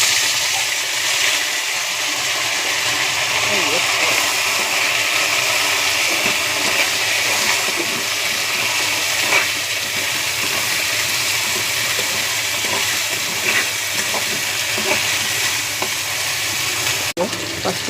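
Potatoes frying in hot oil with turmeric, a steady loud sizzle and crackle that runs unbroken from start to finish, with no voices over it.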